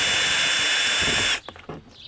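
A power drill whirs loudly and steadily while backing screws out, then cuts off abruptly, leaving a few quiet clicks and handling noises.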